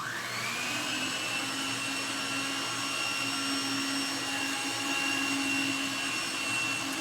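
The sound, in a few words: electric mixer beating two ingredients for a dessert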